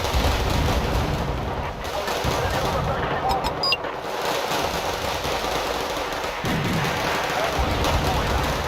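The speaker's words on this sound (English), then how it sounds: "they're going to mortar me, so I just need to move forward" Mortar and gunfire rumble in WARNO, a Cold War real-time strategy game, as dense continuous battle noise with repeated booms and rattling shots, loud and sustained, while someone talks over the top.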